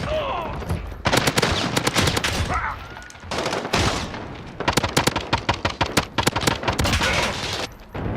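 An M4 rifle in Modern Warfare Warzone fires in repeated rapid automatic bursts, loud and close, with brief gaps between strings of shots.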